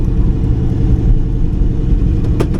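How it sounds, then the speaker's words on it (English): Old street car engine idling steadily, a low, loud, close rumble with a slightly uneven lope and no voices. "This thing just likes to just sit and idle and be stuck in traffic"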